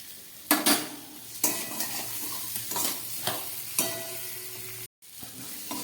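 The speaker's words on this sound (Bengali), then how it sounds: "টমেটো, কাঁচা লঙ্কা, আদা আর ক্যাপসিকামের সঙ্গে খুব ভালো করে আমি আলুগুলোকে ভেজে নিচ্ছি।" Potatoes fry with tomato, green chili, ginger and capsicum in a pan, with a constant sizzle broken by a series of sharp scraping stirs of a spoon against the metal, roughly one every second, close and clear.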